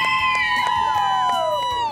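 Beachgoers at Praia do Tucunaré, a beach in Brazil, shout and cheer together, a dense, sustained crowd roar with rising voices holding loud throughout.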